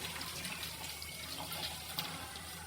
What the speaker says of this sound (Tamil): அதுக்கப்புறம் ஸ்க்ரப்பர் எல்லாத்தையுமே வாஷ் பண்ணி